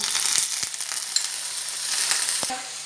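Onion paste hits a hot pan and fries with a steady, bright sizzle, broken by a few soft clicks and stirring knocks, close and continuous, for a tawa paneer dish.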